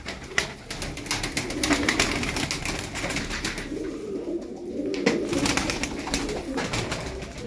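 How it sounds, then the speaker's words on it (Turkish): Tumbler pigeons coo softly and repeatedly, close by, their low throaty calls overlapping against light background noise. "Bakın arkadaşlar, kuşların çoğu oyunludur."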